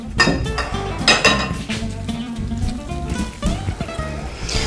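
Scone dough being thoroughly stirred in a bowl after liquid is added, with repeated close clinks and scrapes of a utensil against the bowl in an uneven rhythm.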